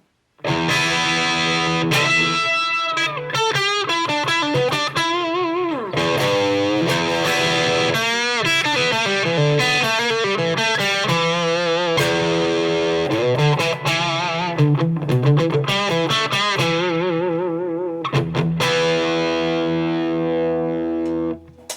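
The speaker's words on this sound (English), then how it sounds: "Now if I just put the reverb on, I've just got a very slight reverb." A distorted electric guitar plays a long run of sustained notes and chords through a Marshall Origin 20 amp and cab with slight reverb, a faint reverb tail trailing each phrase.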